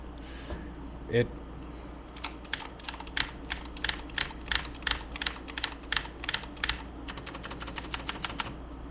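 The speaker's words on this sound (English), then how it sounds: "Now, keyboard, nothing special. This is just a Razer Black Widow V3, I believe." Keys clatter on a Razer BlackWidow V3 mechanical keyboard at a desk setup, fast irregular bursts of close clicks after a brief thump, quiet overall with no talk.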